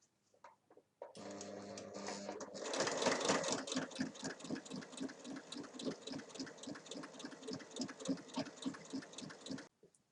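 A sewing machine stitches an inner pocket onto a large fabric bag, starting after a brief pause and settling into a fast, steady mechanical rattle of needle strokes before stopping abruptly.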